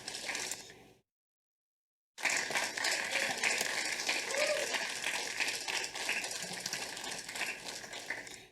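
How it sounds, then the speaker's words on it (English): Audience applause following an impassioned line in a Muppet segment: a fairly steady wash of clapping that starts abruptly, runs at moderate loudness for about six seconds, then tapers slightly, after a brief burst and a gap of silence. "that wasn't much applause for a really fucking passionate pronouncement there"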